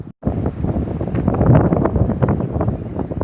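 Strong wind gusts buffeting the microphone at a clean seashore while gathering shellfish, a loud continuous rumbling roar that surges and fades without pause.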